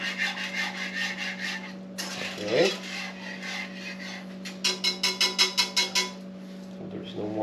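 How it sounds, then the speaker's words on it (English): A whisk stirs a sauce in a pot on the stove for a caribou roast, scraping and rubbing steadily, then breaking into a quick run of rhythmic strokes near the end, with a short spoken phrase early on over a steady kitchen hum. "I'm going to mix, to be sure I have no lump."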